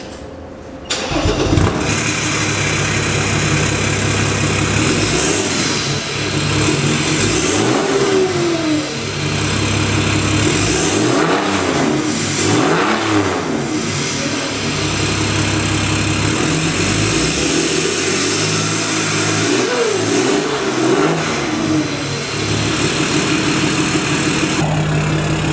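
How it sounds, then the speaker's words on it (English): A straight-piped Mercedes CDI turbo diesel cranks and catches, then settles into a loud, raw idle broken by several sharp revs that rise and fall, the deep exhaust rumble staying close and unmuffled throughout. "fire it up, and see what a straight piped CDI diesel sounds like."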